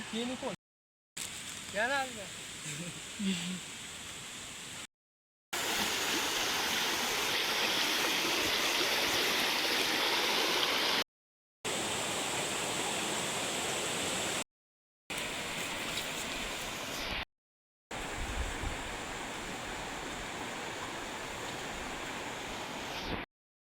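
A monsoon-swollen stream rushes steadily in a loud, continuous broadband roar, with a voice heard briefly near the start and short breaks between sections.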